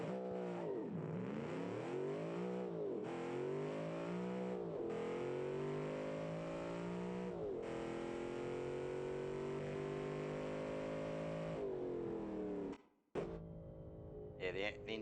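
A modified ute in a video game, now fitted with a V8 engine, revs in long rising and falling sweeps that sound close and loud and run almost continuously before a brief cutoff near the end.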